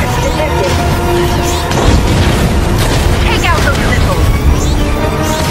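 Rocket explosions in a Fortnite live event: heavy, continuous booming and crashing blasts rolling on without pause, loud and dense, with excited voices shouting over the din.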